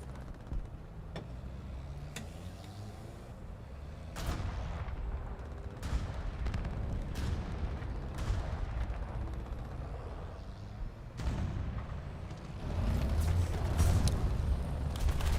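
Video game guns fire with heavy, booming shots at irregular intervals, some deep like artillery, over a constant low rumble of battle noise.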